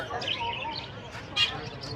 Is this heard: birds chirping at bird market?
yes